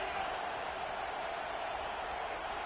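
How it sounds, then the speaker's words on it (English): A stadium crowd at an FSU football game roars in a steady, dense wash of cheering, heard from a distance with no single voice standing out. "It is getting loud as this crowd tries to help its defense."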